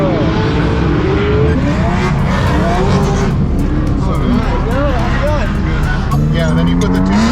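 A Nissan 370Z drifts, its engine loud and close, revving up and down in sweeping bursts while the tires squeal and scrub almost continuously.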